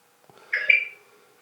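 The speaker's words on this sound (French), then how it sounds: "vous cliquez dessus, il y a une sonnerie qui retentit" A Stash motorcycle's locate signal, triggered through the VMoto app, sounds as a single short electronic chirp, clear and close, in quiet surroundings.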